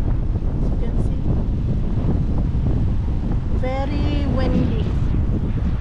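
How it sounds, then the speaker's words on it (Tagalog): Strong wind in Muscat buffets the microphone with a continuous low rumble and roar, steady throughout, while a brief whistling tone cuts through near the end. "Very windy ngayon, pero alingiing siya na pagka-windy"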